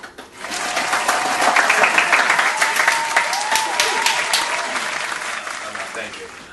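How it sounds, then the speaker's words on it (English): A small studio audience gives a podcast host a sustained burst of clapping that swells quickly and tapers off, with voices mixed in among the applause. "now applause is for me, not for Michael"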